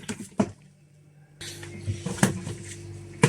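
Homemade lightening lotion being stirred in a container: soft scraping and tapping of a utensil against the sides, with a few sharper clinks, close and quiet with no talk.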